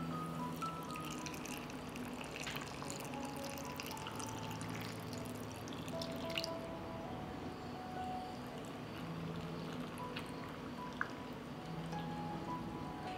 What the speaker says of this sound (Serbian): I sada ću u svaku teglu sipati vodu.